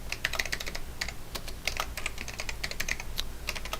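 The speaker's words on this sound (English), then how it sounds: "you can just try typing in here" Rapid typing on a computer keyboard, a steady patter of close, crisp key clicks with no voices.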